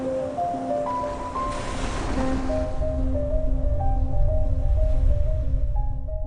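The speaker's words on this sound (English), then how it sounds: "the crashing waves have worn the rocky shore into sandy beaches" Ocean waves crash steadily against a rocky shore, a loud continuous roar of surf with low rumbling wash, heard beneath a soft sustained musical score.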